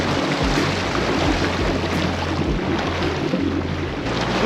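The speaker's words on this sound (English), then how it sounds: "I'm gonna start up my SEADOO, and I'm gonna idle all the way out to the 5-mile-an-hour buoy" A Sea-Doo personal watercraft idles steadily out from a dock, its low engine drone rumbling continuously beneath wind buffeting and water noise.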